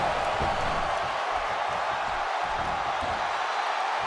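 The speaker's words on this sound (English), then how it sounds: "by the sound of this crowd, I think they're getting what they wanted" Dense crowd noise from a professional wrestling tag match fills the space, a loud steady roar of cheering and shouting with no clear breaks, close and continuous throughout.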